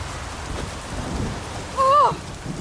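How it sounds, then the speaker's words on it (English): Constant rainfall and low thunderous rumble in The Witcher 3, with a brief vocal sound cutting through near the end of the short stretch. "Maybe we needed a spot of rain."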